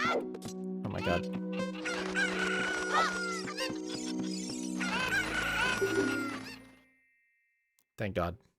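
Loud, overlapping crowing and squawking from Cuccos in Zelda: Ocarina of Time plays over game music, with a voice talking underneath. The sound cuts out near the end before a short final burst.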